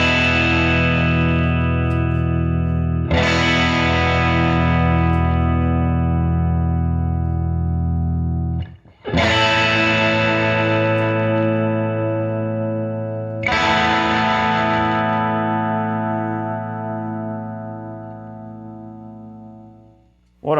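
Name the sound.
Magnatone 113 Troubadour Deluxe guitar amp with tremolo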